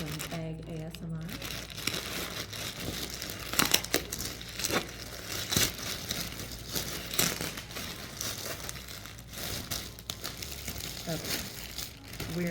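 Plastic packaging for sportswear being torn open and handled, with loud, close crinkling and crackling throughout and a few sharper tearing bursts, with someone speaking at times.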